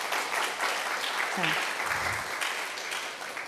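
A concert audience claps continuously to welcome a singer at a praise concert, steady applause throughout while someone briefly speaks over it.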